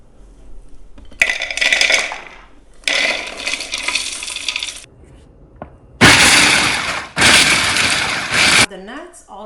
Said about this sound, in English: So let's pulse food processor.